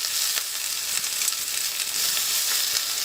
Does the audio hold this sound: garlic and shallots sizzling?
yes